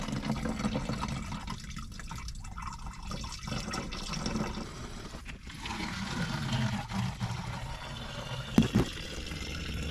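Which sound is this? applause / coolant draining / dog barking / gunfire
coolant draining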